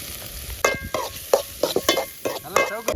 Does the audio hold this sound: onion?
yes